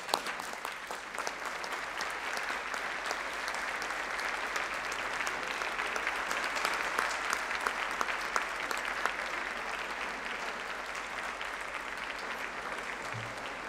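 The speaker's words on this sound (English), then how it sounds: "give them the round of applause that they deserve for your success and support." A graduation ceremony audience gives a sustained round of applause, dense steady clapping from a large hall crowd lasting over thirteen seconds without talk.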